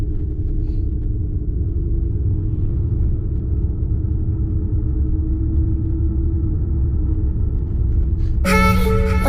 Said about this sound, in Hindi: ये है जी गाड़ी जो लेके जाएगी सिटी में। आई थिंक ये शेयरिंग टैक्सी है,